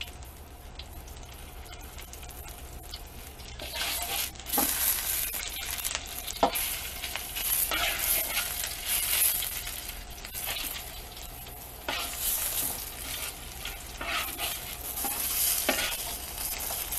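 Vegetables stirred and sautéing in a hot pan for enchiladas, with a steady close sizzle and scraping stir strokes recurring throughout, no voices.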